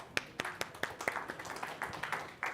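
Sparse, faint clapping from a small conference audience, with a few separate hand claps in an uneven rhythm over a couple of seconds.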